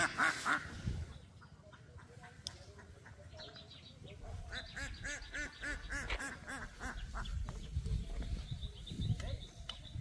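Native ducks quack repeatedly in a lively, overlapping chorus, fairly close, on a sunny winter morning, with some background noise and a brief voice early on.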